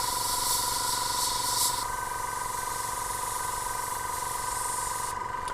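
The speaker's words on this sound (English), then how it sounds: "So the whole time that I'm spraying, I'm trying not to run the paint at all." Airbrush spraying camouflage green paint onto a Tamiya 1/48 German anti-tank gun model, a steady close hiss running throughout with a brighter burst in the first two seconds.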